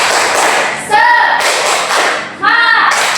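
Schoolchildren in a classroom perform a rhythmic spirit clap, loud patterned claps and thumps in short bursts, with voices chanting along between the beats.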